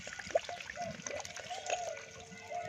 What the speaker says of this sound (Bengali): এখানে একটু বেশি করে জল দিয়ে দিচ্ছি যাতে সবজিটা ভালো করে সেদ্ধ হয়ে যায়